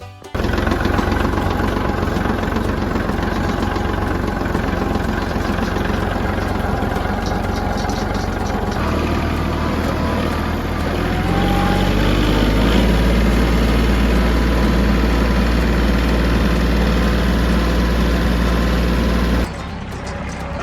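An old Kubota tractor's engine runs steadily as it drives carrying a loaded bucket to a compost pile, a loud continuous low rumble that rises partway through and cuts off near the end.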